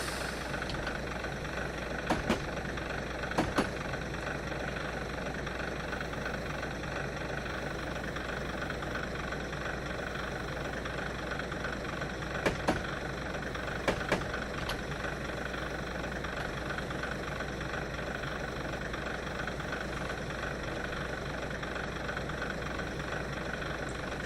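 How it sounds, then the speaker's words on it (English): A diesel train locomotive idles and runs in the game Train Simulator 2016, a steady low engine drone with faint knocking throughout, interrupted by a few brief sharp clicks, with no speech. "Sounds like a little bicycle engine."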